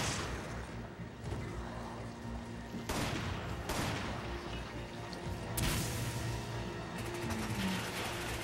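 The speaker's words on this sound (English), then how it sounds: "Stop shooting me." Dense video game gunfire from Resident Evil 5, overlapping bursts and single shots rattling steadily for several seconds with sharp louder cracks standing out, mixed with clanking mechanisms and crashes.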